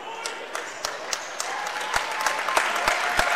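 Home fans applaud the Vikings boys' basketball team in a gym, a crowd clapping with sharp individual claps standing out over the steady clatter, while an announcer talks over it.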